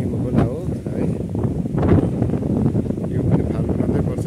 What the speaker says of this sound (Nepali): एकदम हावा खतरा चलिरहेको छ है.